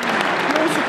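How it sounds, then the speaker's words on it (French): Brief burst of dense audience applause at a kobudo martial arts competition in an arena, steady clapping from many people with voices mixed in. "On peut l'applaudir une fois."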